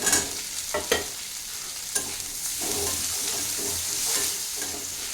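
Potatoes frying in a pan with onions and tomatoes for a thin Bengali fish curry, with a constant sizzle close by, broken by clattering stirs and scrapes.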